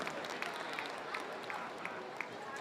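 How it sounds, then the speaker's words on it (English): Spectators at a world championship campdraft clapping for a lady rider, a steady patter of applause from a crowd, moderately distant throughout. "give her a lovely round of applause there, our only lady competitor"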